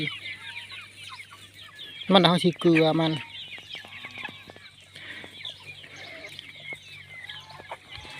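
Chickens cluck and chatter continuously in the background, with one louder, close squawking call partway through, while a person speaks softly.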